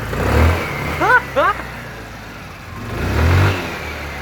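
A GY6 scooter engine that starts easily but struggles to keep running sputters to life in short bursts, revving briefly twice then fading before catching and rising again, close by with a few spoken sounds between.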